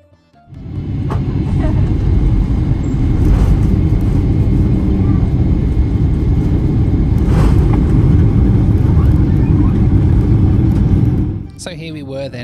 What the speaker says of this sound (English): I filmed the entire landing down into Turkmenistan